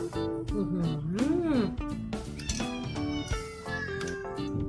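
A cat meows loudly with a rising and falling wail, while other tonal sounds and background noise continue around it.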